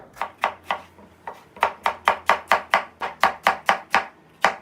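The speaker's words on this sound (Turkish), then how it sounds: "bir tane domates doğrayacağım" Rhythmic knife chops through a medium tomato on a cutting board, about fifteen crisp strokes in quick steady bursts with brief pauses, close and clear.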